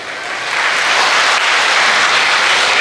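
An audience claps steadily, starting more softly and swelling into dense, sustained applause that fills the space.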